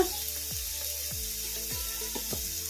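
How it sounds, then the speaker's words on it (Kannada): Carrots frying in a pan over a medium flame with a steady soft sizzle, while a spoon or spatula scrapes and stirs at a few irregular points; no talking. "ಕ್ಯಾರೆಟು ಮೆತ್ತಗಾಗೋವರೆಗೂ ಫ್ರೈ ಮಾಡ್ಕೋಬೇಕು ಮೀಡಿಯಂ ಫ್ಲೇಮಲ್ಲಿ"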